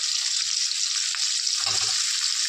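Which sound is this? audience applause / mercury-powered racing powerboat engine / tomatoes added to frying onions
tomatoes added to frying onions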